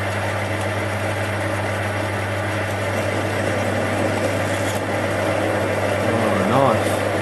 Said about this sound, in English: First we'll try some mild steel with a 6mm drill.